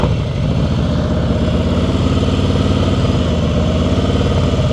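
A motorcycle engine runs steadily at low speed during slow-speed riding skills practice on a course, a loud, even, close putter with no talk over it.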